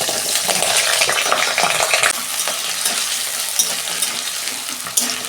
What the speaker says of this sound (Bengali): বাঁধাকপিতে আমি একটা আলু দেবো, তো আলুটা ভেজে নিচ্ছি।